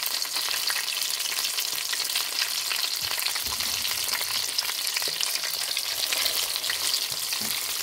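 Breaded pollock fish cutlets deep-fry in hot oil, a loud, steady close-up crackling sizzle with constant fine bubbling and no talk.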